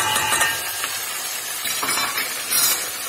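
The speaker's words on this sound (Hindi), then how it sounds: "अब इसको हम तेज आंच में अच्छी तरह भूनेंगे।" Beef keema with turmeric, garam masala, salt, coriander, chili and roasted cumin frying over high heat in a pan while being stirred; close, steady sizzle with scraping stirs and soft utensil clicks.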